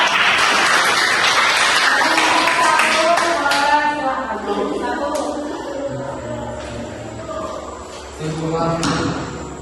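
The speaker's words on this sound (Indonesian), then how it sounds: "kita tepuk tangan kelompok dua." A group claps together for a student group presentation, and voices talk and call out over and after the applause as it fades.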